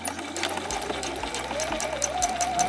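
A sewing machine stitching a second row around a small lined fabric drawstring bag, starting up after a brief pause and then running in a steady, close, whirring hum.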